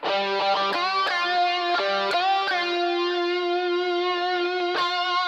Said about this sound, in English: you hear this guitar part which sounds something like this